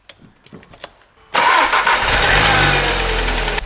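A wrecked Volkswagen Golf R's engine cranks and catches after a few quiet clicks, then settles into a loud, steady running rumble close by.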